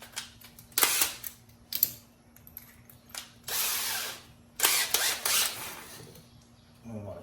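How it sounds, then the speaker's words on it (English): Power drill boring a hole through metal stock during a tap and die demonstration, heard as several short whirring bursts with pauses between, the longer runs near the end, fairly close and moderately loud. "we're going to drill a hole all the way through"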